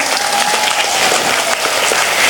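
Loud, close applause from a gathering at a religious study session held in a workshop, dense continuous clapping for the whole short stretch with no voices on top.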